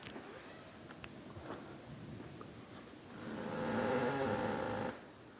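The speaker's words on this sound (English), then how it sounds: "that's that tree rubbing against that one tree." Tree trunk rubbing against another tree in a wooded area, giving a drawn-out creaking groan that swells for a couple of seconds over quiet background hiss.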